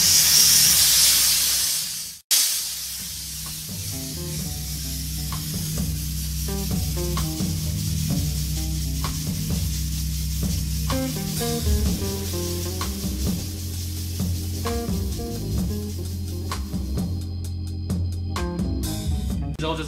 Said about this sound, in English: With the 320 degrees, steam.